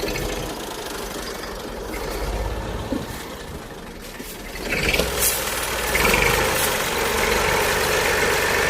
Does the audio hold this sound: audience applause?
no